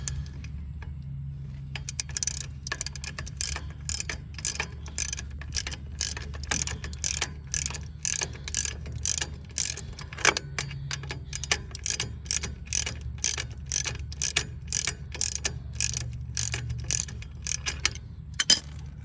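A crescent wrench tightens a bolt on a Gravely Pro Turn 148 mower during drive belt replacement, giving a long run of sharp metallic ratcheting clicks, close and steady, over a low hum.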